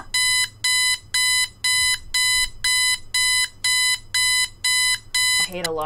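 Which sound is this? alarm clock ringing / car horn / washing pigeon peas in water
alarm clock ringing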